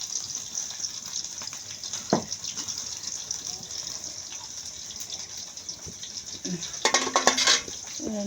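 Food sizzles and fries steadily in a pan, with a few clinks of utensils and pan sounds near the end and faint voices in the background.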